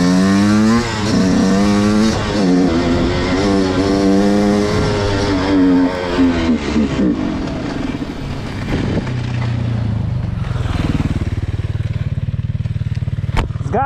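A rebuilt Yamaha YZ 125 two-stroke dirt bike revs loudly and close during a test ride, its engine pitch rising and falling through gear changes before dropping to a rough, sputtering idle as it runs short of fuel.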